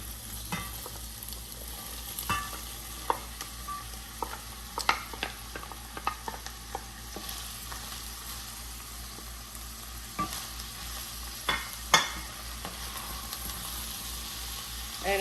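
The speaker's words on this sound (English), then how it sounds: "Now I'm going to add the carrot and celery." Chopped carrot and celery sizzle in a pot for lentil soup, with a steady frying hiss broken by frequent scraping spoon strokes and light clicks against the pot, close up with no talking.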